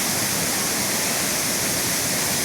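Burney Falls, a large waterfall in northern California, pours with a steady, dense roar of rushing water that stays constant throughout, with no voices.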